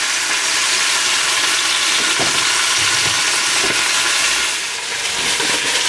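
Beef chuck frying in a hot pan, a loud continuous sizzle with occasional sharper spits and crackles, close up, no voices.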